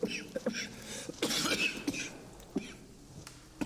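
A woman coughs in a string of irregular close bursts, some harsh and throaty, spread across a few seconds in a quiet room.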